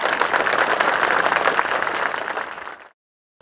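Audience at a city hall dedication in Picayune breaks into steady, dense applause from many hands, loud and sustained before fading out abruptly into silence.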